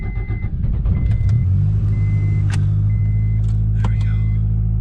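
Idling 1999 Acura Integra DC4 engine breathing through a cheap eBay muffler, a steady raspy low rumble that swells slightly after the first second and holds, with faint talking over it.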